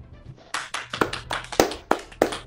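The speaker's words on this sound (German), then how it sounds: "Wir applaudieren für dich. Das war sarkastisches Applaudieren." A few people clap their hands in sarcastic applause, a sparse, uneven run of sharp claps, loud and close, starting after a brief pause.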